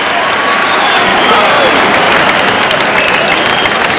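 Steady, dense applause from a boxing crowd after a round in the Thomas Hearns versus Michael Olajide fight, loud and sustained throughout with general crowd noise mixed in.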